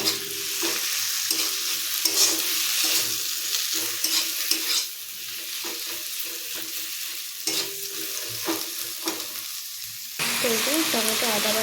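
Tomato, taro and ginger paste stirred in a hot pan: a loud continuous sizzle and frying hiss broken by repeated spatula scrapes, with a brief break partway through.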